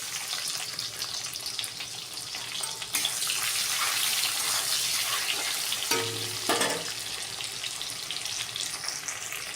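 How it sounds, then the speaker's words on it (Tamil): Sliced onion fries in hot oil for an Odisha-style egg curry, a dense, steady hiss and sizzle that swells slightly partway through, with a brief clunk and scrape around the middle, close and without talk. "ஸோ வெங்காயம் வந்து நல்லா ஃப்ரை ஆகும்"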